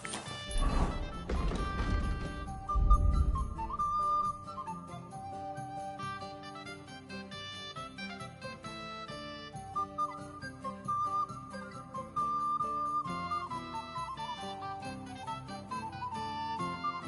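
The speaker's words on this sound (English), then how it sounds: "Stop that whistling." A character whistles a wandering tune in Kingdom Come Deliverance 2, steady over layered game music and ambience, after a louder burst of clatter in the first few seconds.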